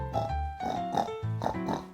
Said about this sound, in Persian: این خوک است. این چی رقم صدا میکشه؟